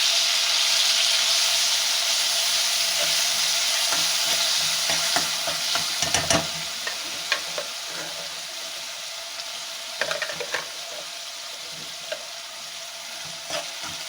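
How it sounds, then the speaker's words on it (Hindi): Homemade chutney of coriander, mint and lemon juice being fried in a pan, giving a steady bright sizzle throughout, with scattered scraping and clinking stirs clustered in the middle and near the end. "इसको मैं इसके अंदर डाल दूँगी, इसको अच्छे तरीके से भून लूँगी"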